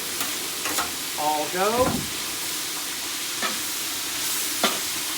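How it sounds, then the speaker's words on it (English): Bok choy, sugar snap peas, red peppers and portobello mushrooms stir-frying in a hot pan, a constant sizzle with clattering tosses and scrapes, and a brief spoken remark near the start. "We're going to give them a little bit of stir fry."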